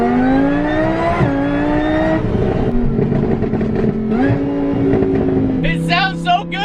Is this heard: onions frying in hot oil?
no